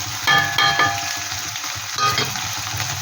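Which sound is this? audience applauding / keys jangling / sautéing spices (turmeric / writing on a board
sautéing spices (turmeric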